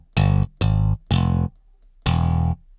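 Four crisp electric bass notes from the Omnibass plugin's clean tone are plucked in a short phrase, bright and punchy, with clean sustains and gaps between notes.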